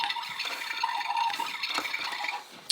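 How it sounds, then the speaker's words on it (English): A toy coffee maker runs with a steady watery trickle and faint bubbling, continuous and close, with a few small clicks. "the coffee maker makes noise some kind of way"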